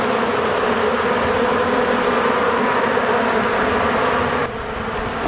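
Honey bees swarm around frames of pollen and nectar in an opened hive, a dense, steady close-up drone that stays loud throughout, dipping slightly near the end.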